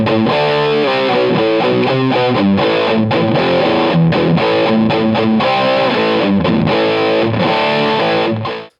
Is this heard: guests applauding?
no